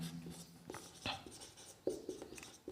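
Short scratchy strokes and taps of writing on a board during a classroom lecture on blood pressure, a few close, separate bursts with pauses between them.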